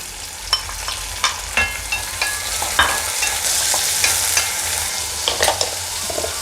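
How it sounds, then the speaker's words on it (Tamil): Chopped tomato sautéing in a hot pan while making chola dosai: a steady close sizzle of frying with repeated clacking stirs and scrapes of a spatula, no voices. "தக்காளி நல்லா வதங்கட்டும்"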